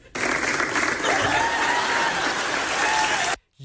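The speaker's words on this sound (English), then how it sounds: "they're giving these people a round of applause because these people were lined up" A crowd in a Canadian store applauds shoppers lined up for a Black Friday sale, with dense, steady clapping for about three seconds, a few voices rising within it, then a sudden cutoff.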